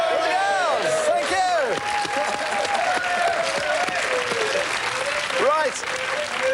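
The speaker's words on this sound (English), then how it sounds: "let's have a nice round of applause for the girls" A studio audience on a 1991 television dating show applauds warmly, a steady, full round of clapping with some cheering, with voices and whistling cries heard over it.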